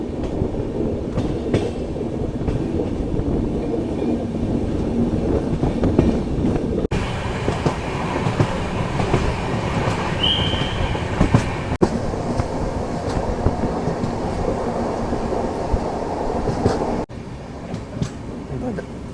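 The Bengaluru Janshatabdi Express rolls along the rails near Shivamogga and Bhadravati, heard as a continuous loud rumble with wheel clatter and occasional squeals, steady throughout.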